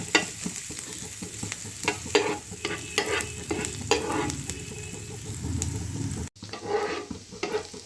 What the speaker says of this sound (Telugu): గార్లిక్ మంచిగా రోస్ట్ చేసుకోవాలి. గార్లిక్ బ్రౌన్గా అవ్వాలి.